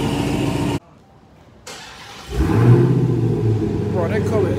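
Car engine cranking and catching after a jump start, a brief silence then the engine firing and settling into a steady idle with a rev, nearby, with voices around it.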